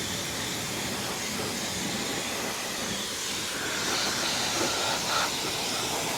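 Touchless pressure washer spraying the undercarriage of a Nissan Pathfinder, a steady broadband hiss of water jets that holds constant and swells slightly near the end, with no voices.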